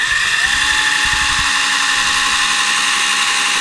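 A drill bores into a plastic Gundam model leg joint, a steady high-pitched whine running throughout, close and loud, with faint low scraping near the start.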